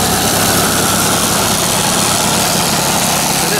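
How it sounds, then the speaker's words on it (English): A Ford 2N tractor engine idles with a steady, loud mechanical rattle and low rumbling vibration, running alone and close by for a few seconds. "This rattling pretty good."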